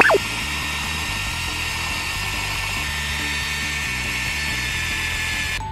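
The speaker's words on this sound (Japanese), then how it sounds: "ではここでリューターを使っていきます。" A handheld rotary tool whines steadily at high speed while cutting a Mini 4WD MS flexible center chassis, one loud continuous drone that stops abruptly at the end.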